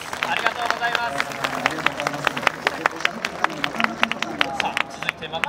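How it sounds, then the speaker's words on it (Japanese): An audience at the Hiroshima Carp fan appreciation day talk show claps in quick, scattered, crisp bursts that overlap with a murmur of crowd noise and some talking. "皆さんから拍手がありがとうございます"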